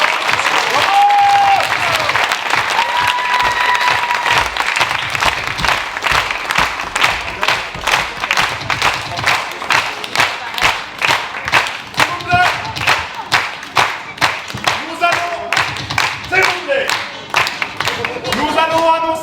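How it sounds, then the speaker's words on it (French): Audience applause for improv teams at half-time of a closing show, sustained clapping filling the room with a steady mass of hand claps that thins into scattered, individual claps toward the end. "On peut les applaudir parce qu'ils ont été bon."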